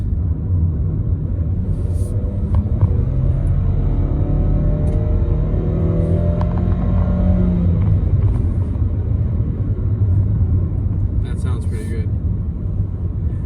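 A 2021 Nissan Rogue Platinum Edition accelerates hard in sport mode, its engine droning in a rising tone over a constant loud road and cabin rumble, with someone talking over it.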